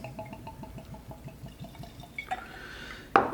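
Bourbon, an Old Louisville single barrel whiskey, glugs from the bottle in a rapid, even run of small pours, close and fairly quiet, ending with a sharper clink or splash.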